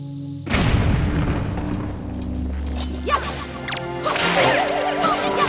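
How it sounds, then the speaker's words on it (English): A bomb blast from The Legend of Zelda: The Wind Waker HD bursts loudly at the start, then a deep rumbling boom trails off beneath rising whooshing and chiming game sound effects. "you need bombs in order to blow this up."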